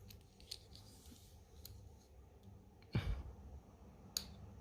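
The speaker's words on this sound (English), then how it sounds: "I need to cut a bit off the bottom" Scissors snipping through a bumper protector strip for a Xiaomi M365 electric scooter, heard as a few sharp, isolated clicks and one heavier crunching cut, close and quiet with no talking.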